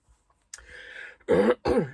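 A feeble, throaty cough from a person with chest bruising: a soft breathy rasp followed by two short, strained bursts, close and alone.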